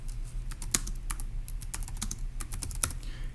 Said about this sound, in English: let me go ahead and type that up